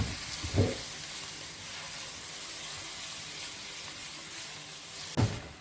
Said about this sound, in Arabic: هنضيف عليه المشروم والزيتون. ونقلب كل المكونات دي مع بعض